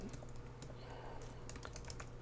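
Fingers type quickly on a computer keyboard, a soft, steady patter of key clicks over a low background hum.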